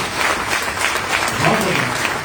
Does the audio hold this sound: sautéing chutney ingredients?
no